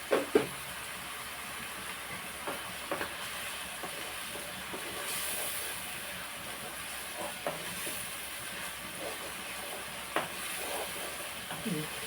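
Taro root (chamadumpa) frying in oil for a curry, a continuous soft sizzle with occasional stirring knocks and spoon taps, fairly quiet and steady throughout, no talking.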